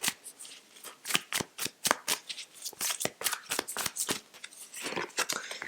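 Tarot cards are shuffled and drawn close up, a rapid run of crisp flicks and riffles with uneven rhythm and no speech.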